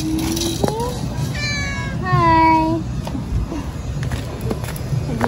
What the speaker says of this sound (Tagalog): Nag-meow din.